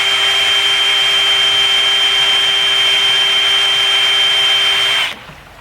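Eastwood epoxy primer being mixed for a 1972 Dart trunk lid: a powered mixer whirs with a loud, steady whine for about five seconds, then cuts off abruptly into near silence.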